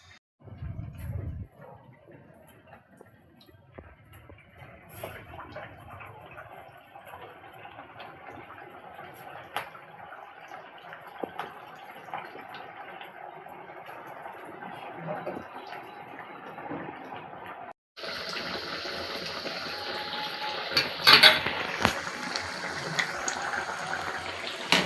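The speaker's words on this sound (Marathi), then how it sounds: "आता आपण फ्राय करून घेऊया वडे" Sabudana vada fry in oil in a kadhai. A faint, thin crackle builds gradually and then jumps to a loud, steady bubbling sizzle near the end with a few sharper pops.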